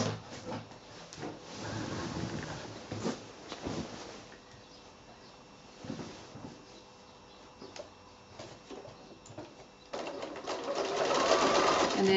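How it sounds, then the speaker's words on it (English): A sewing machine stitches binding onto a patchwork quilt in quiet bursts of rapid whirring, with pauses between runs and a louder, faster stretch at the end. "Turn the quilt around and start sewing right from the end there."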